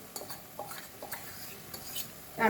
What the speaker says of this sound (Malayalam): നാല് table spoon coconut milk powder ഇട്ട് എന്നിട്ട് ഇളക്കി കൊടുക്കാം